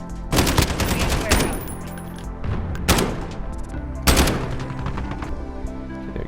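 Bursts of SCAR rifle fire in the Modern Warfare shooter game, several sharp volleys of rapid shots spaced a second or so apart, loud against a low background of in-game ambience.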